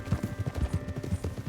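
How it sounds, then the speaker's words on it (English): Horse hooves clip-clopping at a steady trot in the Western video game Red Dead Redemption 2, a close, rhythmic run of evenly spaced thuds with no talk over it. "Get a hold of that horse, will you?"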